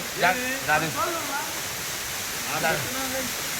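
Water pours steadily at the Siddalayya Kona waterfall, a constant rushing hiss filling the background while someone talks over it in short bursts.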